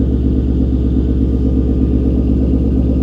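A 2019 Mustang GT V8 idles with its active exhaust valves fully open in track mode, giving a loud, steady, close burbling rumble with a regular pulsing beat and no talk.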